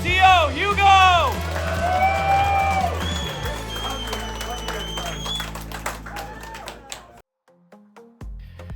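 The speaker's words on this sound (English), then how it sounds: "Everyone, get a huge round of applause for your TO, Hugo!" A crowd at a Beyblade X tournament claps and cheers for the organiser, a quick burst of dense applause with whoops at the start that thins out and fades, with voices over it before a sudden quiet.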